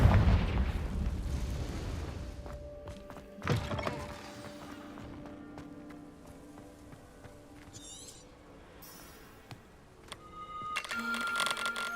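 A Confringo spell explosion in Hogwarts Legacy opens with a loud, rumbling blast that slowly fades, followed by a sharp second impact and scattered magical chimes and crackles.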